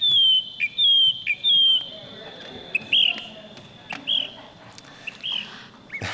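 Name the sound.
person whistling imitating a bird song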